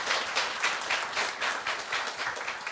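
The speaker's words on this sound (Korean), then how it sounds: "큰 박수를 부탁드리겠습니다." Audience applause at a National Assembly policy forum in Korea, a brisk, even patter of many hands heard moderately close, steady across the whole short stretch.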